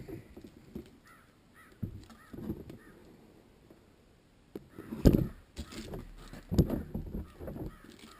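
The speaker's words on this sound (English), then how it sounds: "I hear a crow calling" Several crow caws ring out during beehive relocation work, some distant and some nearer, scattered among clinks and handling noises.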